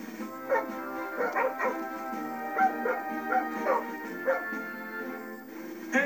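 Cartoon search-and-rescue dogs bark and yip in a steady run of short, close barks over soft background music, with a few whimpering notes mixed in.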